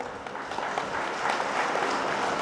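Audience applause at a general members' meeting of a cooperative agriculture and rural development bank in Chikkaballapur: dense, steady clapping from many hands filling the room throughout, with no clear voices.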